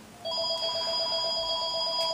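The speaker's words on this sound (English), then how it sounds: "And that's the phone." A phone rings indoors with a steady electronic ringtone, a sustained repeating tone that holds fairly evenly for about two seconds with no talk over it.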